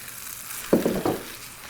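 Brief bursts of dressing sizzling in a hot pan, three quick surges of frying hiss about a second long, close and fairly loud, no talking.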